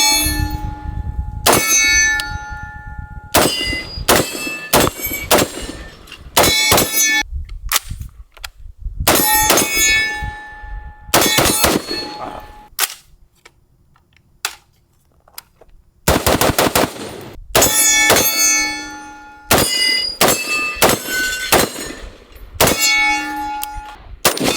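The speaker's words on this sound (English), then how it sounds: "Here's some close range shooting." Sig MCX-SPEAR rifle firing at close range, loud sharp shots in quick bursts and single shots, many followed by ringing metallic clangs from steel targets, with short pauses between strings.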